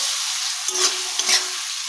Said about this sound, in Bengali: এখন টমেটো, আদা, রসুন, কাঁচা লঙ্কাটা ভালো করে পেঁয়াজের সঙ্গে মিশিয়ে নিচ্ছি।